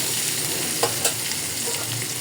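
Plantain pieces fry in oil with salt and turmeric in a pan. A continuous close sizzle carries two faint stirring taps.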